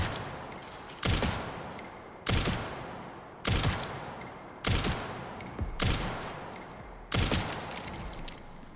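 Gunfire in the video game Resident Evil Requiem, six loud, sharp single shots spaced roughly a second apart, each followed by a short ringing decay, close and with no talking between them.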